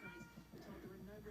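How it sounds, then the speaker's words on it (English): A cat meows in a drawn-out, wailing call, faint and somewhat distant, with voices talking around it in a home setting. "Can you hear that cat?"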